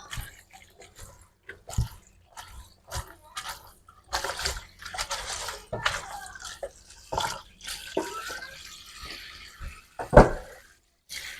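Water spinach (kangkung) being washed by hand under running water in a home kitchen, with irregular splashes, drips and handling noises, some louder bursts and a sharp knock near the end, no talking.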